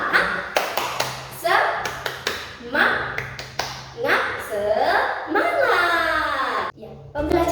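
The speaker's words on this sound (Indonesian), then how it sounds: "kita tepuk semangat dulu" A class of young children does a tepuk semangat chant, voices calling out in unison between bursts of rhythmic group clapping. The claps and shouts come close and loud in short repeated phrases.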